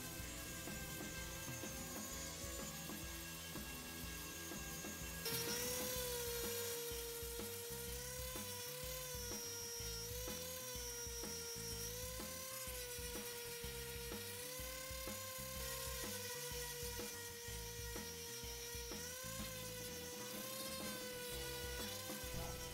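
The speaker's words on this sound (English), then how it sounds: "Well, the Shinto rasp isn't working out too good. Let's try the sander." A power sander works on the curved tummy cut of a flamed-back guitar body, a steady high whine with wavering pitch that lifts slightly partway through and runs continuously without speech.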